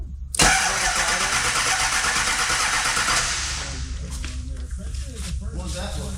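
A car engine cranks and fires abruptly, roaring loud at first then settling into a steadier idle, with people talking over it near the end.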